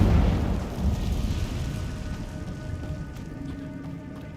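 A fiery Incendio spell blast in Hogwarts Legacy, a roaring, crackling burst that swells at the start and then slowly fades into a sustained rumbling hiss.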